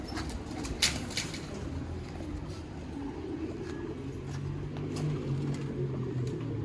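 Pigeons in a fancier's loft coo softly and intermittently over a low ambient hum, with a brief sharp knock or wing flap early on.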